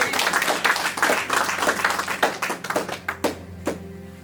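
A congregation claps together in a worship service, a dense run of rapid overlapping handclaps that thins into scattered, separate claps toward the end, close and fairly loud.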